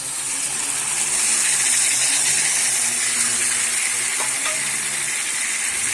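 Shol fish frying in hot oil in a Bengali kitchen, a dense, steady sizzle and crackle close by, with faint stirring and spattering throughout.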